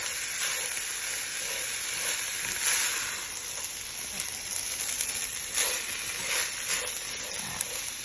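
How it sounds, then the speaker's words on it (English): Fried rice sizzling and frying in a hot pan, a steady close crackling hiss with brief louder bursts as it is stirred, running unbroken throughout. "Fried rice, so we're toasting it."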